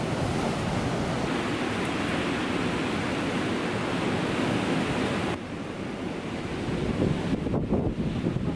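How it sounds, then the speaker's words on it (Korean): Ocean waves roll onto the East Sea shore at Samcheok in a continuous, loud roar of surf. Heavy wind buffets the microphone throughout, and the noise eases slightly partway through. "파도 봐. 와, 파도 봐."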